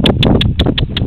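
Horse loping on a farm, six evenly spaced hoofbeats clip-clopping in a steady rolling rhythm, close and loud over low background rumble.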